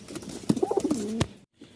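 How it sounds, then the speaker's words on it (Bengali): Pigeons on a Dhaka rooftop pigeon farm give a short, soft rolling coo, close by and brief, followed by a faint rustle. "এই যে এখানে হচ্ছে 5 পিস কবুতর যাচ্ছে।"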